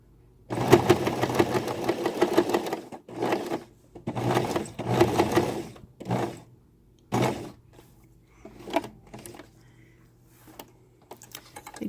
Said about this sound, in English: I'm literally stitching on this line right here